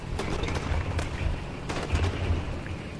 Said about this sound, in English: Listen to that backfire, kaplow, kaplow, kaplow